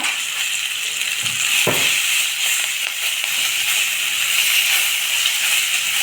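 Bitter gourd and chopped vegetables sautéing in a hot pan give a steady, close hiss that holds evenly throughout, with one soft knock early on.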